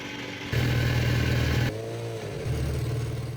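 An engine cranks and catches after an oil change, settling into a steady idle; the start is loud and close, then the running note drops and evens out with a slight clatter.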